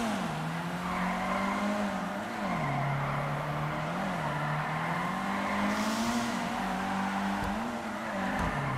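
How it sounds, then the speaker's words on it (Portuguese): A pickup truck drifting in GTA Online, its engine droning as it revs and falls while the tires squeal on and off throughout, loud and close, with no talking. "nunca fiz drift com esse caminhonete aqui"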